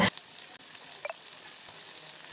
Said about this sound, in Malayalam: നമ്മളിത് ചട്ടിയിലോട്ട് ഇടുമ്പോൾ ഉണ്ടല്ലോ നല്ലൊരു ശബ്ദമാവും കേട്ടോ